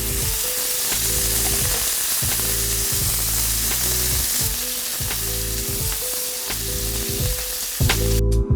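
Meatballs fry in oil in a pan with a loud, steady sizzle and crackle throughout, close up and with no talk.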